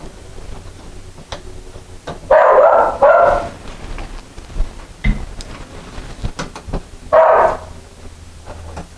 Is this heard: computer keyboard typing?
no